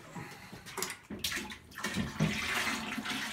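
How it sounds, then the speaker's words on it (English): Food-grade Ultra Pro white mineral oil pours from a container with air holes into a custom oil-cooled computer case, giving a close, gurgling, glugging liquid splash; no voices. "So this is the mineral oil that we got. Ultra Pro white mineral oil. Food grade."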